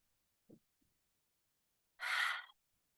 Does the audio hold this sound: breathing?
yes